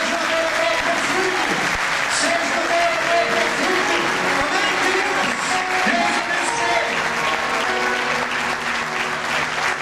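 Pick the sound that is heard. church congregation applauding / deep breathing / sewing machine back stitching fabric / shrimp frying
church congregation applauding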